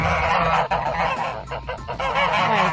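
A goose honks loudly and repeatedly, close by, a dense run of harsh nasal calls with only brief pauses throughout.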